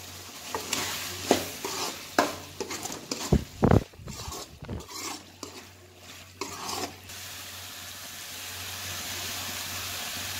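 A spatula stirs coriander leaves into a chicken fry in a hot pan, giving a cluster of scraping clanks and sizzling bursts early on that fade to a quiet steady hiss.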